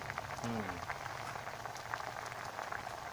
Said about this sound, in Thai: นี่เดือดแล้วนะครับ เดือดแล้ว